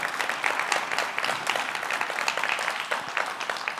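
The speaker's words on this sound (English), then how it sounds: "let's give a round of applause for them." An audience at a software development talk breaks into sustained applause, a dense wash of many hands clapping at steady volume throughout.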